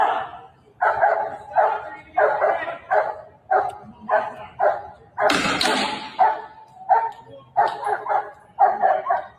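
A dog barks repeatedly in steady bursts, fairly close, with a louder noisy burst partway through and faint murmuring in the background.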